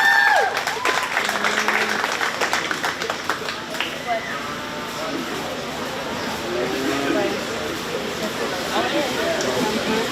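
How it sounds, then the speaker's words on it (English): At a 4-H cattle show at the 2022 Shelby County Fair, a crowd applauds a young exhibitor with her champion feeder heifer. Someone talks over it on a loudspeaker, and the scattered clapping runs on under him. "Let's give this young lady a nice round of applause with her champion feeder heifer"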